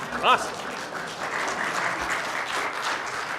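A convention crowd at a tabletop gaming panel claps in a soft, continuous patter, with a brief voice rising over it at the start and faint chatter beneath.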